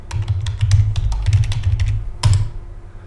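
Keystrokes on a computer keyboard, a fast run of clicks spread across the first two seconds, then a short pause and one final burst, recorded close with no talking.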